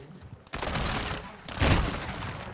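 Gunfire crackles in a shooter video game as rapid, close bursts of shots, with a louder volley near the end, under a player's brief talk.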